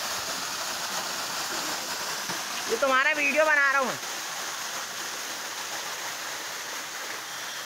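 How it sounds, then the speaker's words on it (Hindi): A large waterfall at Chhota Mahadev sends down a steady wash of falling and flowing water, a broad constant roar throughout, with someone briefly speaking over it near the middle. "ये जो मेरे पीछे आप झरना देख रहे हैं उसका पानी कैसे जाता है मैं आपको दिखाता हूँ।"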